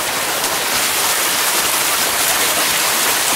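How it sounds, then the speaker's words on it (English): Steady broadband rush of river water flowing over rocks while water is being collected outdoors, a continuous close wash with no voices. "collect some nice river water here."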